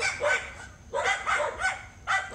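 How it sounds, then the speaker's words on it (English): A dog barks in short bursts, several sharp yips close by, with brief pauses between the groups of barks. "I can still play with my dog and deal with the barking."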